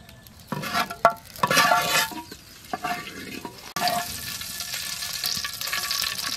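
Oil heating in a kadai over a village cooking fire, where fish has just been fried, gives a steady close sizzle after a few scattered knocks and stirring clatters.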